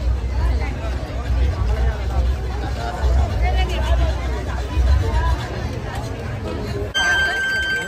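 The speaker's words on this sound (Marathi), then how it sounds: "जसा आज जाऊ तशी गर्दी वाढत चालली." Dense crowd hubbub fills the Sajgaon village fair, with many overlapping voices and steady chatter throughout, loud and close, and a brief electronic ringing tone near the end.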